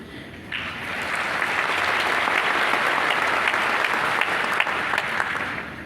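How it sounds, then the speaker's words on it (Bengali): Sustained applause from a large audience, steady dense clapping that swells after a brief quieter start and holds strong throughout, with no talk over it. "নিজেদের জন্য নিজেরা হাততালি দিচ্ছ"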